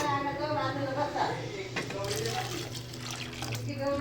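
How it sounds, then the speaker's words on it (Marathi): Hot water pours into a pot of sprouted-bean usal, a brief splashing gush under a person talking. "जे गरम पाणी आपण केलेलं होतं ते टाकायचं."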